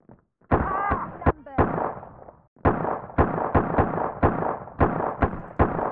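Gunshots in the driving game Autobahn Police Simulator 3 during an off-road mission: a string of sharp, loud single shots at fairly regular intervals, with a short pause partway through and a voice talking between them.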